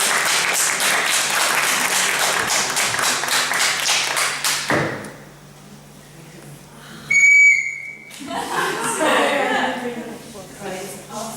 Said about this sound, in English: I think we should make big applause